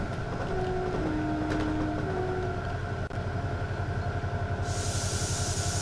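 A train in Train Simulator 2020 on the Wherry Lines branch between Norwich and Great Yarmouth runs fast through a station: a steady rumble with rhythmic wheel clatter, a brief tone, and a hiss rising near the end.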